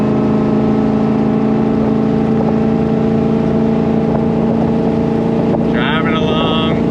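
1966 Chevrolet Corvette C2 Stingray cruising along, a steady droning engine note heard from inside the car with a constant rush of wind and road, and a brief faint chirp near the end.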